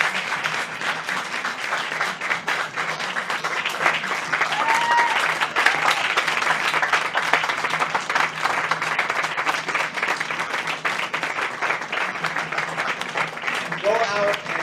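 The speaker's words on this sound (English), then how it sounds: "asking you to give these two citizen artists applause" A theater audience applauds two young citizen artists with continuous, dense clapping that holds steady throughout, with voices faintly mixed in beneath.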